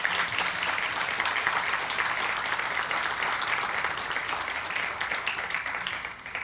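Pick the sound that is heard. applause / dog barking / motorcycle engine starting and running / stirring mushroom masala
applause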